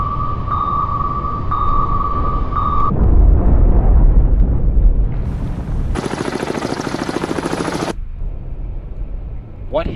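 An enemy vessel blows up in the submarine game Cold Waters, heard as a loud, deep rumbling explosion that swells and lingers, followed by a sustained sonar-like tone and other game noises, with no talk.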